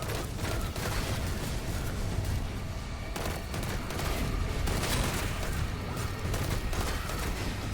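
Dense, continuous enemy gunfire and explosive bursts from Destiny 2 combat fill the scene at high, unbroken loudness, with rapid overlapping shots and booms.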